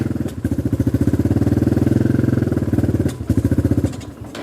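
A Honda XR150 motorcycle engine runs close by at a fast, lumpy idle, its rapid chugging pulses briefly dropping out for a moment before picking back up.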